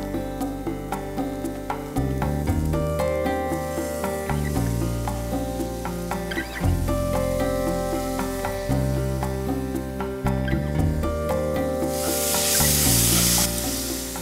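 Tomatoes go into browned onions frying in a pan, and a steady sizzle runs throughout beneath louder background music.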